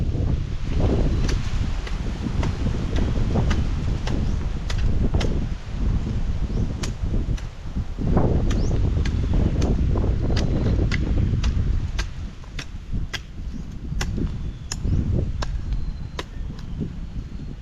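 Steady outdoor wind rushes and buffets the microphone in a continuous low roar, with sharp repeated ticks and knocks scattered through it.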